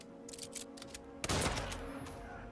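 An ENRAMHV shotgun fires in Hitman 3, a single loud blast with a lingering rumbling tail, preceded by softer clicks and handling sounds.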